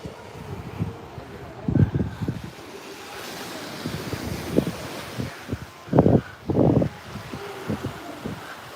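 Ocean surf on a Cancun beach thick with washed-in seaweed rolls in under gusty wind noise, with several louder bursts of breaking water scattered through a continuous wash.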